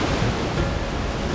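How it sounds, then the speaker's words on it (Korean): Khone Phapheng Falls in Laos roars with a steady, dense wall of rushing water, loud and unbroken throughout with no talk. "이곳은 동남아시아에서 가장 큰 규모를 자랑하는 펌파팽 폭포입니다."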